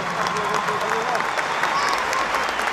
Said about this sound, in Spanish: Que venga esas palmas, por favor.